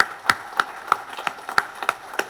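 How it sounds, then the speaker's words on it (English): Scattered clapping from a small audience at a Mazda dealership's 45th anniversary event, eight or nine sharp claps spaced unevenly rather than a full ovation, fairly close and clear with no talking. "Round of applause for you all."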